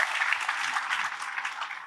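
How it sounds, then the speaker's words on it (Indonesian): Applause from an audience at a talk by Cak Nun, a brisk, even wash of many hands clapping together for about two seconds. "tepuk tangan semua kita iringi beliau"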